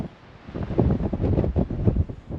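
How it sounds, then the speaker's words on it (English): Strong wind on Mount Pinos in Los Padres Forest blows straight into the microphone in heavy, rumbling gusts that swell and ease without pause. "Holy moly, it's windy."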